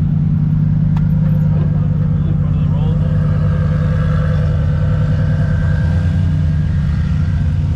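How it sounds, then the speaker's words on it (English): Several car engines idle at a steady low rumble at a car meet, with people talking nearby throughout. "There is cars everywhere."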